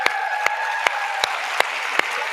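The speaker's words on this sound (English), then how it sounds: "Y'all need to give him a big round of applause" An audience at a live podcast event applauds in a dense, steady wash of clapping, with a few sharper claps standing out at regular moments across the short stretch.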